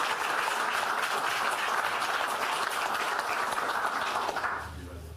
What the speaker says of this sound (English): if we could give Chief Dvorak another round of applause